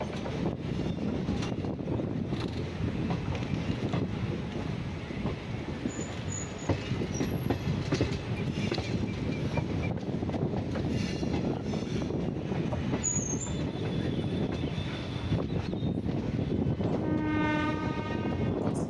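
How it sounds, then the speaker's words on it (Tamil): A train rolls steadily into Thiruvarur Junction on the Karaikal–Thanjavur line, with loud rumbling and clattering wheels, a drawn-out horn near the end, and brakes squealing faintly as it slows. "இப்போ நம்ம ட்ரெயின் திருவாரூர் ஜங்ஷனில் என்ட்ரு ஆகுது."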